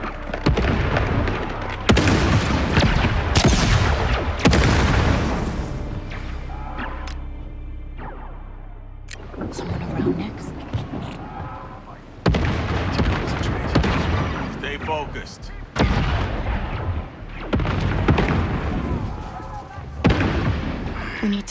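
Fireworks in the Star Wars Outlaws video game burst in a long run of loud booms and crackles, some bangs close and others further off, with voices talking over parts of the barrage.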